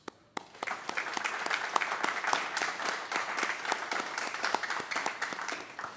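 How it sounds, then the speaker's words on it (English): A crowd at an academy graduation ceremony applauds graduates' families and friends with a steady, sustained round of clapping, dense and even from start to finish. "Please join me in a round of applause for the family members and friends who assisted the graduates"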